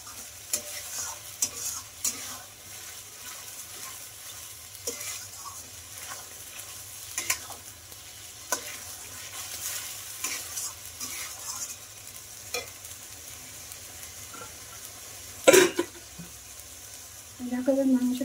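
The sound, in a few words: stir-frying spice masala in a pan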